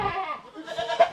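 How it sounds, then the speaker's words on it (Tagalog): Farm goats bleating as they wait for food: a short burst of close, overlapping bleats with a louder cry near the end. "Yung mga kambing natin, oh."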